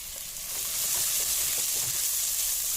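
Sliced onions frying in oil for tomato rice give a steady, close sizzle with bright crackling hiss throughout, rising slightly after the first half second, with no voices.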